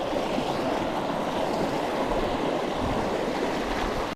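Water flows steadily as a broad, continuous wash, close and fairly loud, with wind noise on the microphone and no talk over it.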